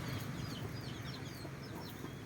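Chickens clucking and chirping softly over a steady low background rumble, close by and continuous.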